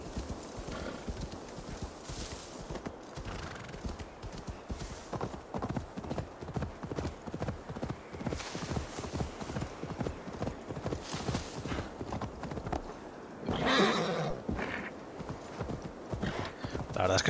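A horse gallops in Assassin's Creed Valhalla with rapid, steady hoofbeats close by, broken by a brief whinny midway, over continuous rushing movement noise, in a dense forest.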